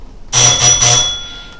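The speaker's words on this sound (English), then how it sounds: "So that is the same exact doorbell sound" A house doorbell chimes clearly up close, three bright ringing strikes in quick succession with long harmonic tones that linger and fade out, no voices over it.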